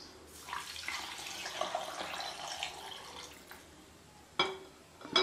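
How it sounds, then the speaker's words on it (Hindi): Milk pours steadily into an apricot shake being made with sugar and soda, a continuous close liquid splash with a few louder clinks near the end and no talking. "और अब मैं इसमें दूध डालूंगी।"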